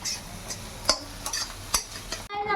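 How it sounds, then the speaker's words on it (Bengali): An egg is scrambled in a pan for pasta: a utensil taps and scrapes against the pan about five times over a faint, soft sizzle, ending in a short voice. "আমি এখন আমার ডিমটা ভেঙে এখানে আমি দিয়ে দিয়েছি যেটা আমি স্ক্র্যাম্বেল করছি"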